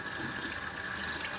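Tap water runs into a sink as raw shrimp is rinsed, a brief, steady splashing hiss heard close up with no talk.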